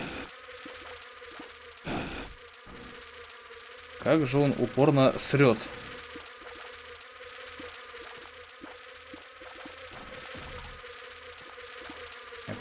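Flies from The Binding of Isaac: Repentance buzz in a thin, steady drone under the game's music, with someone briefly speaking over it in the middle.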